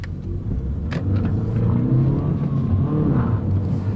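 A small car drives and accelerates, a steady low engine rumble from the cabin holding loud throughout, with a faint rising tone as it pulls.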